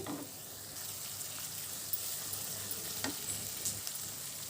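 Onions and fresh green curry leaves fry in oil in a pan, giving a steady soft sizzle throughout with occasional stirring scrapes, quiet and close, no talking.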